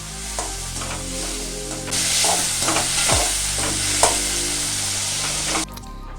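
Onions and tomatoes sauté in hot oil with cumin seeds, giving a steady close sizzle throughout. The frying brightens and swells partway in, and a few stirring scrapes cut through it. No one speaks.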